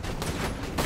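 Gunfire in the video game Borderlands 2, a brief muffled burst of shots at low level with no talk over it.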